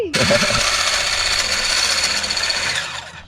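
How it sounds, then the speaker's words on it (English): An electric hand mixer whirs steadily as it whisks egg whites for crispy fried chicken, a loud continuous buzzing drone lasting about three seconds after a brief voice at the start. "You're going to get that mixer and whisk up these whites until they're all fluffy."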